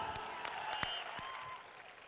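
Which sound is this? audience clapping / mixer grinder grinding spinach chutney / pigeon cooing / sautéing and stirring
audience clapping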